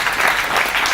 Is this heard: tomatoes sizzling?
no